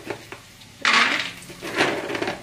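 Raw peanuts tumble into hot oil in an aluminium pan while making murmura chivada, a single loud rattling pour of hard nuts against metal followed by a softer scattering clatter as they settle.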